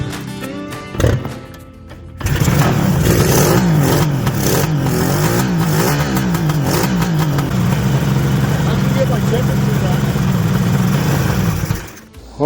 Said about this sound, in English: I might just keep it running a little bit longer, see if we'll encourage that cylinder to start going